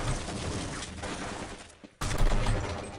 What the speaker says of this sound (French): on va commencer par tuer les 3 là avec le fusil à pompe